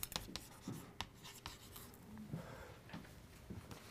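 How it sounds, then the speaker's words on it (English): Chalk or marker strokes writing an equation on a board in a physics lecture hall, a series of short scratchy taps and rubs at an uneven pace, close and fairly quiet, with no talking. "I'll write that here."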